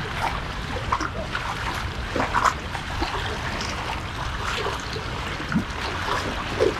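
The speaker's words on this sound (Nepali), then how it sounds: "बुलबुले तालको पानीहरू ओभरफ्लो भइरहेको" Water from Bulbule lake in Surkhet spills and trickles over its edge after continuous rain, a steady running rush with small splashes and gurgles, close by and unbroken.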